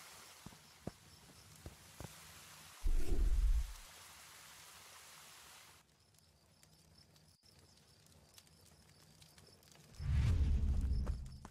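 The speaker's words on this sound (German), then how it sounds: "So, dann gießen wir doch das Zeug." Watering plants in the video game Deiland: two short bursts of splashing water, several seconds apart, rising over quiet ambient game sound with scattered soft clicks.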